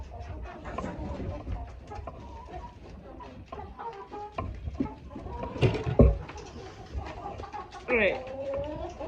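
Chickens cluck and murmur around a farm coop during chores, soft scattered calls with a few louder squawks, while a person talks over them.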